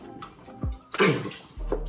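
Chicken broth is poured into an Instant Pot for beef stew, heard as a short gurgling splash followed by a steadier low liquid pour, with a few small knocks around it.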